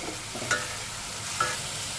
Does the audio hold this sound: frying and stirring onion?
yes